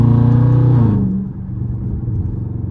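Scat Pack's engine rumbling from inside the cabin with the windows up, a loud rev that drops after about a second into a steady low drone.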